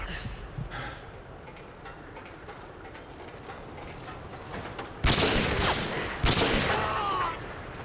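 Gunfire in the video game Modern Warfare 2 during a private match: two loud, sharp bursts of shots cut in abruptly about a second apart over a steady low background rumble.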